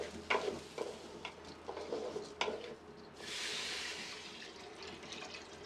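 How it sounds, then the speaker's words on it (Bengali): Chinigura rice is fried in a pan with onions for beef tehari: a few scraping stirs first, then a steady sizzle that swells and holds. "চালটাকে ভেজে নিচ্ছি"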